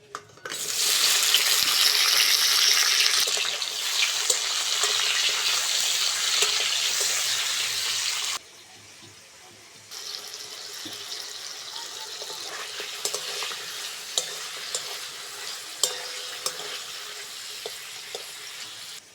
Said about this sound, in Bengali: তেলের মধ্যে দিয়ে দেবো টমেটোটা।